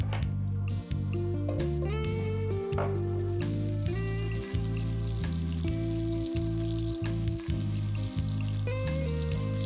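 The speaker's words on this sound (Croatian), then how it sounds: "Zagrijte ulje i maslac u dubljoj tavi." Oil and butter heat in a deep pan, giving a soft, steady sizzle that sits under continuous background music.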